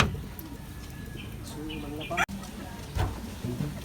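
Racing pigeons feeding coo softly in short bubbling phrases nearby, with a sharp click in the middle, while someone talks over them.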